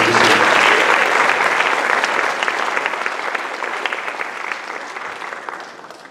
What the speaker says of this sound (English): let's get a big round of applause for all of our sponsors this year